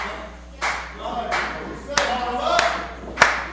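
Wrestling crowd at a Challenge Pro Wrestling show clapping to rally a Premier Academy student, with sharp claps and thuds from the ring; the rhythm is uneven, with louder bursts, and an announcer talks over it.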